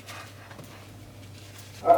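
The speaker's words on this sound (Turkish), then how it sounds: "Köpek sesi geliyorsa yapacak bir şey yok kusura bakmayın" A dog barks faintly in the background of a home kitchen during cake baking, mostly quiet and distant, with a sharper, louder bark right at the end.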